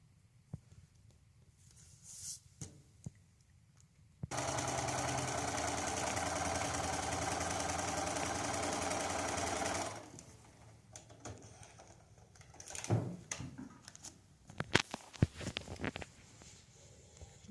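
A sewing machine stitches quilt fabric for a pieced block, running in one steady, loud, continuous whir for about six seconds before giving way to quieter handling noises and small clicks.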